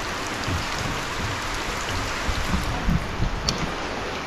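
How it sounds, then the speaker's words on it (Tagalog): Steady rain falls on crops in a farm field, a dense, even hiss of drops close by with a few heavier patters, no voices. "Kaya saglit lang naman tong ulan na to."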